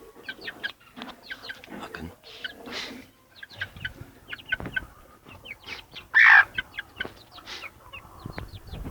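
A hen clucks among her chicks in a village coop, her soft low clucks mixing with the chicks' rapid high peeping and one louder call, all close by.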